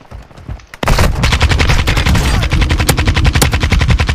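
Automatic gunfire in the video game Warzone DMZ, a loud sustained burst of rapid shots starting abruptly after a quiet moment, close and dense with sharp repeated cracks.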